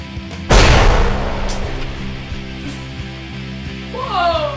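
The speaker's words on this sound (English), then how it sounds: "I don't expect chocolate milk to explode in my face today." A chocolate milk carton bursts in a prank explosion: one sudden loud broadband blast near the start, then a lingering rumbling tail with faint voices and a rising squeal near the end.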